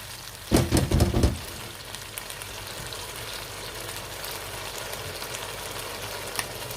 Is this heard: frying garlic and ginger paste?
yes